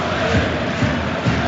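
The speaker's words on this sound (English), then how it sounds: "The Rangers crowd, such as it is, beginning to make the noise and get behind the side" Rangers supporters in the stadium during a UEFA Europa League match against Genk, a steady, dense crowd roar with a few brief swells of chanting rising over it.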